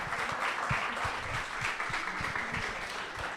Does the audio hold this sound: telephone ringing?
no